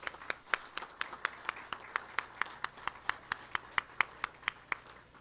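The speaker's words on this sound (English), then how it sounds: "So let's give them one final round of applause." An audience at a school district board meeting gives a final round of applause for student artists. The clapping is faint and sparse, with a steady, even beat of separate claps from only a few hands.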